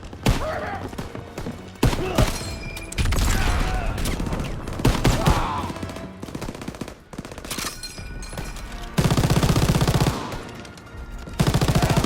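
Machine gun fire at Omaha Beach during the WWII D-Day landing, loud and continuous: dense rattling bursts and heavy thumps that surge and pause over the whole stretch, with no talk.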